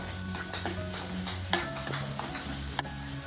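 Coconut being stirred with sugar in a pan, a steady soft scraping and faint sizzle with a few sharper clicks of the spoon against the pan, close and alone with no talking.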